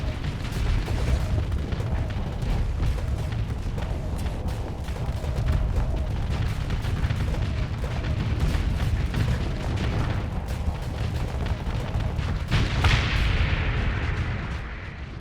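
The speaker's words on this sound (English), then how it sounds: "What a satisfying explosion." Explosions and heavy weapons fire from a space battle in the Starsector game, Nexerelin mod, a dense, continuous barrage of booming blasts and rumbling impacts for the whole stretch, loud and close, with no talk.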